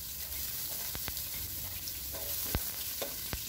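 Minced garlic and ginger sizzle in a mix of ghee and sunflower oil, giving a steady close frying hiss broken by a few sharp spatters and light stirring scrapes.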